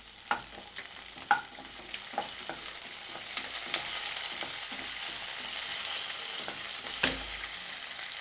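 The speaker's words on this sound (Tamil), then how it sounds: "அதே எண்ணெயிலேயே பச்சை மிளகாயும் கருவேப்பிலையும் ஆட் பண்ணிக்கோங்க." Green chillies and curry leaves fry in oil already used for whole spices, a soft, steady sizzle with scattered pops and stirring clicks, fairly faint and close, with no voices.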